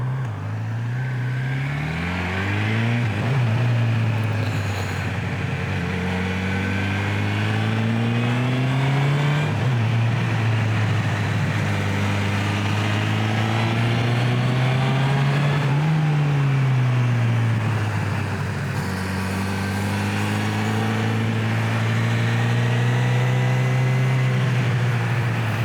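A Honda motorcycle engine revving through a U-turn on a road in the Harz, its close, loud drone climbing and falling in pitch over several rises as the throttle opens and eases, with no talking.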